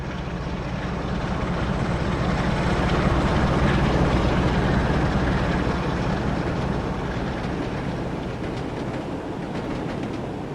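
Train at Dewsbury in the Train Sim World 2020 video game, a continuous loud rumbling roll with faint rail clatter, holding steady for the whole stretch without any talk.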